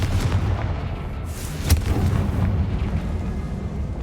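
A Confringo blast spell fires off in a video game, a single sharp burst near the middle over a constant low rumbling backdrop of game noise.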